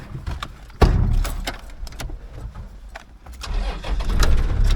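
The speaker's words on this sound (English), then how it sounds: "Oh, a little bit of grinding on that gear." A vehicle engine labours while driving in the outback, with a rough grinding gear change. A loud surge is followed by uneven revving and a rising drone, close by.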